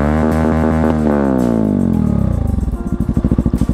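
Kawasaki-Bajaj Rouser NS160 fuel-injected motorcycle fitted with an Akrapovic exhaust, revved hard to full throttle nearby: a loud, rising buzzy engine whine that sweeps up, then breaks into a choppy, pulsing limiter-like stutter.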